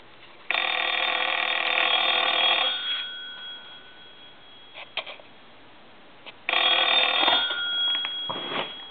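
A Western Electric Princess telephone bell rings in two bursts, each a couple of seconds long with a jangling, metallic trill, separated by a quiet pause with faint clicks.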